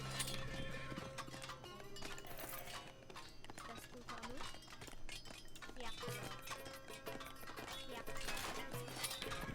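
Cavalry swordsmen on horseback in the strategy game 0 A.D., Persian faction, with busy clopping hooves and clinking amid a dense, continuous battle mix of clashes and game music, with voices faintly mixed in.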